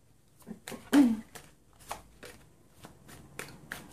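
Tarot cards being shuffled in short crisp riffles and flicks, several separate bursts close by over a quiet background, with no talking.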